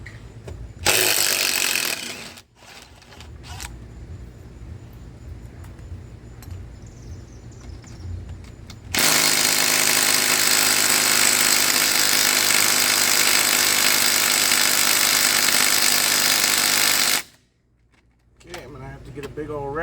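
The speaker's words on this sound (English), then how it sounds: "Little impact gun's a little weak." A small impact gun rattles hard against lawnmower motor bolts in two long, loud bursts, the second lasting about eight seconds, with quieter tool handling and a voice talking between them.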